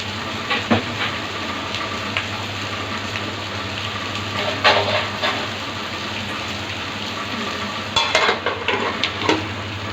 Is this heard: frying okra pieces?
yes